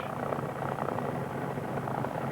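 A light aircraft piston engine idling after start-up in a 1976 training setting, a steady close propeller drone with a dense low rumble and a constant level throughout.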